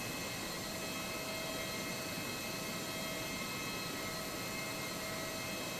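Steady, even whine and hum of an Airbus A319-100's IAE jet engines in Microsoft Flight Simulator 2024, a constant drone with no talk over it.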